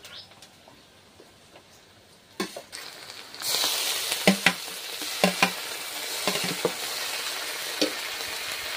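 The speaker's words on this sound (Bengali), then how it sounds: "পেঁয়াজটা একটু হালকা ভেজে নিয়েছি, তো এবার রসুন বাটা আর আদা বাটাটা দিয়ে দেবো।" Garlic and ginger paste hits hot oil with lightly fried onions, a steady broadband sizzle swelling up partway through with scattered stirring clicks and scrapes, close and moderately loud, no talk.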